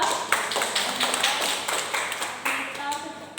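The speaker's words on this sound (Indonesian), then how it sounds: "Tepuk tangan dulu untuk Wawa" A classroom group claps for a student, a dense run of many hands clapping together at moderate distance, with faint voices mixed in.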